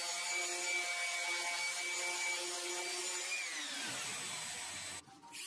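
A power sander works a wooden charcuterie board, a steady whirring hum with a high whine that winds down near the end before a brief rough scrape.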